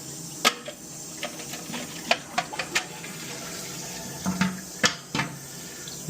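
Water runs steadily from a tap into a bath that has a leak problem, a continuous mid-level rush broken by irregular sharp knocks and clatters, close by with no talking.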